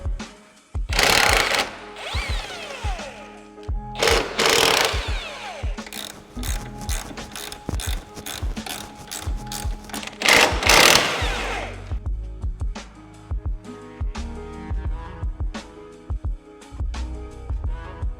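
A ratchet wrench with a 16 mm socket loosens suspension bolts on an all-wheel-drive BMW F30 during a coilover install, giving loud close bursts of rapid clicking with short pauses between runs.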